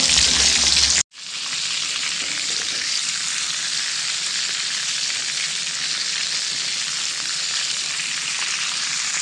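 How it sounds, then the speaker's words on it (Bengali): Meatballs frying in a pan give a loud, steady close sizzle that runs without pause, after a brief cut near the start, with no talking. "মিট বলস সবগুলো ফ্রাই হয়ে গেছে"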